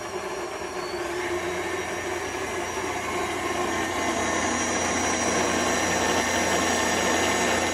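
An electric stand mixer whisking cracker dough, a steady loud motor whir with a constant mechanical hum that builds slightly and runs without pause.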